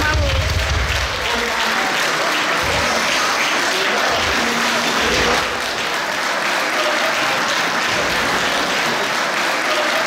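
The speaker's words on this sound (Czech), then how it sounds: "zatleskáme." An audience at an award ceremony for a regional brand in the Czech Forest area breaks into loud, sustained applause that fills the room, with a voice heard briefly over it.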